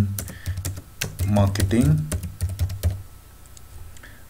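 Computer keyboard typing as a search term goes into a desktop reference-manager app: a run of quick, close key clicks mixed in with a man's speech, then a few scattered taps trailing off.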